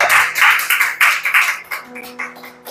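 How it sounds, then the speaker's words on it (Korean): Church congregation clapping together during a Sunday morning worship service, a dense burst of hand claps that swells and fades in uneven waves, close and fairly loud. "영광의 박수 올려드리겠습니다."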